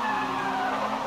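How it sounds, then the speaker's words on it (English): Tires screech in the Project Cars 2 racing game during an RX-Lites championship round at Hockenheim: a loud, continuous, close squeal with a strained engine tone under it. "I've not actually heard that tire screeching sound in Project Cars 2 before."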